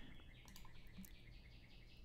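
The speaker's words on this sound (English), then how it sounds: "Enjoy the birds chirping outside my window" Birds chirp outside a window, with faint, scattered high tweets repeating over a quiet, steady background hiss.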